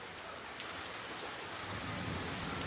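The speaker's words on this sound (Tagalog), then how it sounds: "Ang lakas ng ulan talaga" Heavy rain pours down in a steady, dense hiss, loud and close, with no break and no voices over its short span.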